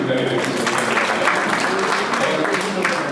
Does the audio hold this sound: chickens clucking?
no